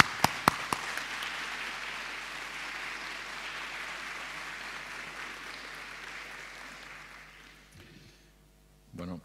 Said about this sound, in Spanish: Démosles un fuerte aplauso a nuestro hermano César Vidal.